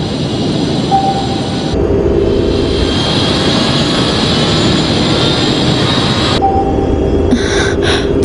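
A submarine's loud, steady mechanical engine roar whose tone shifts partway through, with a whining hum that drops out and returns near the end, from the Ultraman Mebius TV series.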